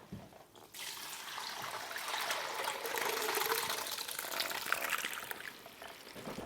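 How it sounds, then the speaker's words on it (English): Hot beef tallow pours through a strainer lined with cheesecloth in one steady, continuous stream, quiet and close, lasting several seconds after a brief silence. "We're going to pour it through the strainer."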